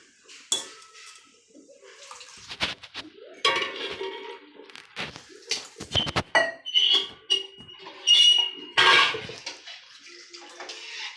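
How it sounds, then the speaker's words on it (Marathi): Water splashes and pours into a metal pot of dal being cooked, amid clinks and clatter of cookware, with bursts of louder pouring toward the end. "इथं पाणी टाकून देऊ की आपण."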